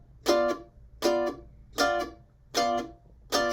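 Mandolin blues strum pattern played up to speed: five evenly spaced, bright chord strums, each choked off short, close and clear with no talking.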